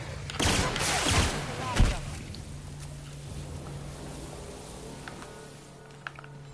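Gunfire from an enemy's gun in the video game The Outer Worlds: a couple of sharp, loud shots crack close in the first two seconds, followed by quieter game ambience and a faint later pop.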